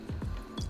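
Water poured for a sourdough starter makes a quick run of bubbly, gulping drips and splashes, three or four close droplet-like plops within a second, moderately loud and close with no talking.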